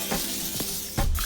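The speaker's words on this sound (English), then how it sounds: "I'm going to spray my tray" Cooking spray hisses onto a baking tray for chicken wings in a kitchen, a few short soft sprays with a louder burst near the end, close and fairly quiet.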